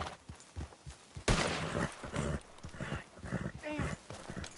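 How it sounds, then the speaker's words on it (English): Gunshots in Red Dead Redemption 2 burst out as a sudden loud crack, followed by a dense stretch of overlapping shots with horse hooves and frequent talking throughout. "Shooting."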